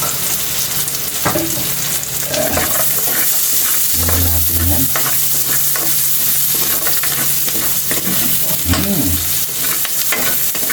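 Garlic fries loudly in rendered pork fat, a constant close sizzle with scraping strokes of a spatula at irregular intervals, for adobong sitaw.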